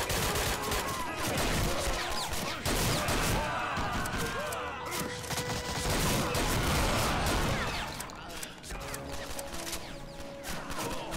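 Dense gunfire from the Wolfenstein/Doom mod Blade of Agony, a continuous loud clatter of shots and impacts filling the scene with game noise, steady throughout and easing slightly near the end.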